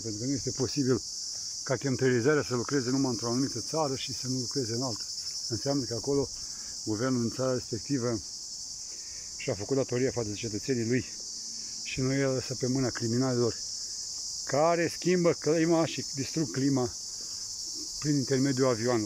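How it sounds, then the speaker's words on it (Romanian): Crickets chirp in Bulgaria, a constant high, even trill running steadily in the background while someone talks over it throughout. "Dacă se aude în fundal un sunet, să știți că acest sunet este făcut de greieri din Bulgaria"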